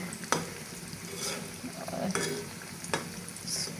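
Sliced onions fry in a pan in a home kitchen, a steady soft sizzle broken by a few sharp scrapes and clacks of a spatula stirring them, no voices.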